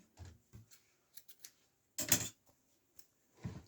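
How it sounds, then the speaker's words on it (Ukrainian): Scissors snip through knitting yarn while finishing a knitted dickey's neckline. A few faint, scattered clicks lead into one louder, crisp cutting burst, then a last quiet snip in an otherwise quiet room. "Тепер обрізаю ниточку."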